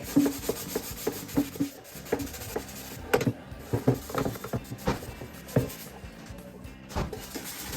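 Steady rubbing and scrubbing on the outside of a grimy, greasy air fryer, with repeated short scraping strokes in an uneven rhythm, close and moderately loud, no talking.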